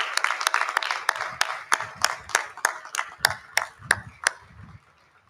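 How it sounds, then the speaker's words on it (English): Audience applause at the ribbon cutting ceremony for an orthopedic and spine institute: a small crowd claps steadily with sharp individual claps standing out, fading to silence over the final second. "let's show our appreciation and give all those a round of applause that are here for us every day"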